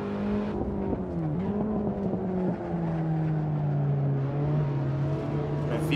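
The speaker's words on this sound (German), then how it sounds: "Lassen wir den Motor ein bisschen bollern." A car engine rumbles steadily in the Assetto Corsa racing game, driving a small Beetle against BMWs, with a continuous low drone whose pitch dips and shifts through gear changes, loud and close throughout.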